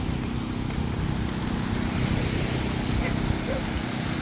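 Romel's boat out at sea, heard as steady wind and water rush with a low engine-like rumble, loud and continuous throughout.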